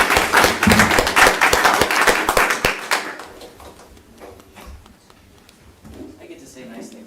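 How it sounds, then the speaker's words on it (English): A city council meeting audience claps for the citizen of the month, a loud burst of many hands for about three seconds that then stops, followed by quieter room noise and faint voices. "She's our citizen of the month, so please give her a round of applause."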